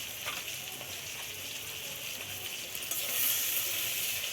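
Prawns for a Bengali chingri malai curry fry in a pan, giving a steady broadband sizzle that swells louder near the end, with no talking.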